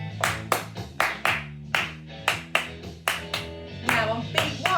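Hands clap a steady ti-ta rhythm as body percussion in a music lesson: a dozen crisp, close claps in short-short-long groups, played alone over a low sustained musical tone.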